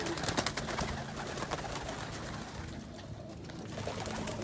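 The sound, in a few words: homing pigeons cooing in a loft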